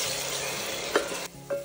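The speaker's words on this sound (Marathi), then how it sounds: "आणि हे कांदे मस्त डार्क ब्राऊन कलर वरती परतून परतून घ्यायचे।" Onions sizzle and fry in a pan for a dhaba-style chicken handi, a steady close hiss with a few stirring scrapes near the end.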